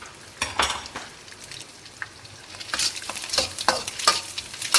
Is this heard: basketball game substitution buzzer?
no